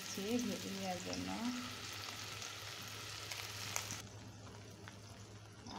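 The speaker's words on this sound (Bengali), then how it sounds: "আমি এখন মাছগুলো দিয়ে দিচ্ছি ভেজে নেওয়ার জন্য" Fish slipped into hot oil in a pan for a chalkumra (ash gourd) curry, a continuous close frying sizzle that fades quieter near the end, with a brief voice-like sound early on.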